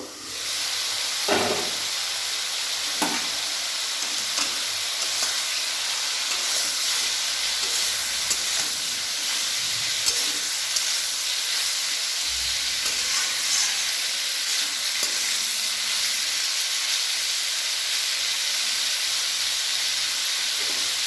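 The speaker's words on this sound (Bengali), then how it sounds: "ঢাকনাটা খুলবো, খুলে একটু নেড়ে দেবো।" Sliced snake gourd fries in an uncovered pan and is stirred. A loud, continuous hiss and sizzle carries through, broken by occasional clatters and scrapes from the stirring.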